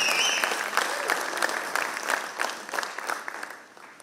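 Audience at a silver jubilee alumni meet breaking into applause, dense overlapping clapping close by that gradually thins and fades over a few seconds, with a brief whistle at the start.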